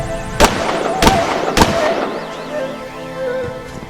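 Three sharp pistol shots fired outdoors on a rural road in Olancho, Honduras, spaced about half a second apart, loud and close, each followed by a brief ringing tail, then quieter ambient noise.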